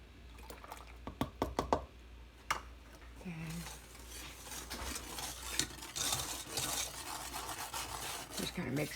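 Spoon clinks against a bowl as a whole milk mixture for chocolate pie is stirred, with sharp rhythmic taps early on, then continuous swishing and liquid stirring, close and moderately loud.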